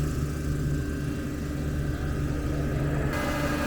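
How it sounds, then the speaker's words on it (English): A large farm tractor's engine drones in a steady, heavy low rumble that holds constant throughout, fairly close and with no pauses. "That's a big tractor."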